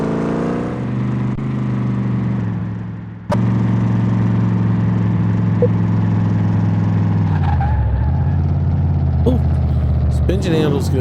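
A Corvette engine in the video game Car Mechanic Simulator 2018 runs loud and steady, a droning harmonic tone that shifts pitch as it revs and slows, with a brief skid-like squeal near the end.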